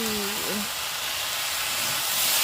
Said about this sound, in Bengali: লবণ হলুদ দিয়ে একটু ভেজে নেই